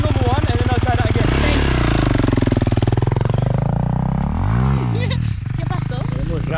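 A Kawasaki KX450 dirt bike engine revs hard during a wheelie, loud and close, its pitch sweeping up and down through throttle blips before dropping off near the end, with talking over it.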